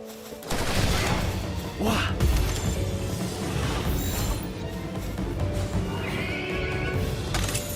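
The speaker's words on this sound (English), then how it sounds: "Oh, now the horse is pissed." A horse in the video game Palworld gives a loud, agitated whinny close by. Clip-clopping hooves and scattered bursts of gunfire and crashing from the game run around it.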